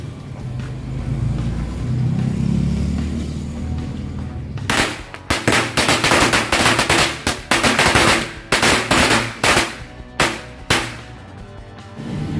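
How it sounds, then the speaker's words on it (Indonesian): A bundle of mercon korek firecrackers set off outdoors, a rapid string of loud cracking bangs in uneven bursts for several seconds after a quieter stretch of background rumble. "selanjutnya kita nyalakan satu gepok mercon korek"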